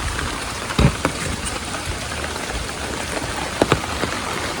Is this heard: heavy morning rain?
yes